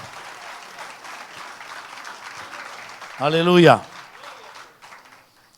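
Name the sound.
congregation applause in church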